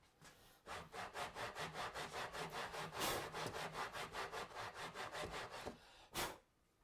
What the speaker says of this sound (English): So we're starting to take the high parts of the wood down.